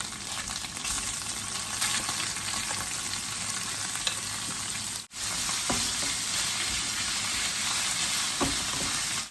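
Steady loud sizzling of chicken breast stir-frying in red curry paste in a pan, with occasional scrapes of stirring and a brief dip midway.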